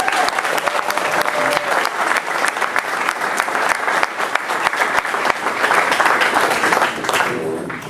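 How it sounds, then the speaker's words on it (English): An audience at a Hall of Fame ceremony applauds in a loud, sustained burst of many hands clapping, filling the room steadily before tapering slightly at the end. "I think they deserve another round of applause"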